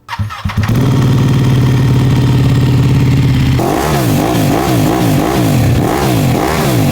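A Ducati 1199 motorcycle engine cranks and fires up, settles into a loud idle, then revs up and down in repeated rising and falling bursts.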